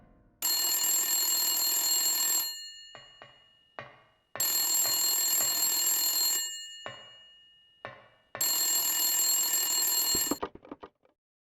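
An old-style telephone bell rings loudly in Silent Hill 1, three long metallic rings separated by short silent pauses, with faint clicks and rattles between them and a clattering burst at the end.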